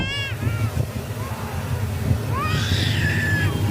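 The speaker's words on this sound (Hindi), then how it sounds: "Black collared starling. इस पक्षी की आवाज ऐसी है जैसे कोई छोटा बच्चा जोर जोर से रो रहा हो।" A black-collared starling gives loud, wailing calls, several rising and falling cries like a small child crying, heard close over a steady rumbling background.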